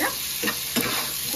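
Spices stirred and sautéed with onion and eggplant in a pan, a brief steady sizzle with a couple of soft spatula scrapes, close and without talk.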